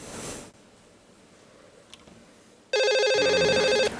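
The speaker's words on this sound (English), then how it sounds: "Another phone call?" A telephone suddenly starts ringing loudly after a stretch of near quiet, its electronic ring continuing steadily to the end.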